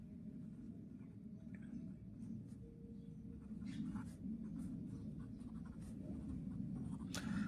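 Pen writing a math equation for a Class 10 lesson, a quiet continuous scratching and scribbling under low room rumble with a few faint taps.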